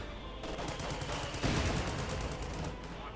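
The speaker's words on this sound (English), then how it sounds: "They're firing back at the Sherman." Dense gunfire from a Company of Heroes 2 battle, a steady rattle of overlapping machine-gun and rifle shots with a louder burst midway, loud and continuous, with no voices.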